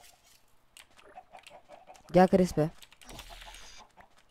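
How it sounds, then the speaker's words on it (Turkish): Chickens in a video game cluck in a loud burst of several quick calls, with a voice talking in Turkish before and after. "Her yerde tavuk var Crispy."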